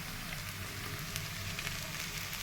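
Dried fish (shutki) fries in hot oil with onions in a home kitchen, giving a steady, close, crackling sizzle with no talk.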